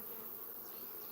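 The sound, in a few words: bees buzzing at beehives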